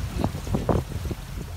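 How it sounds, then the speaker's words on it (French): Boat engine running during a crossing from Ibiza to Burriana, a steady low rumble with wind noise throughout, heard alone without speech. "Je entends le moteur, évidemment."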